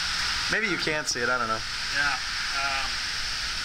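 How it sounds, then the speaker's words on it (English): Heavy downpour on a warm tropical night in Hawaii, a dense steady hiss of falling rain running throughout while a person talks over it. "I wanted downpour rain."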